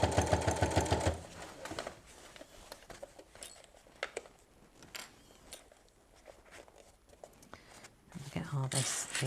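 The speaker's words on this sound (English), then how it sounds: "I am sewing in because I really want to make sure that I catch it" Sewing machine stitching bunting fabric, running in a fast steady mechanical rattle at the start and again at the end, with a voice talking through the quieter middle stretch.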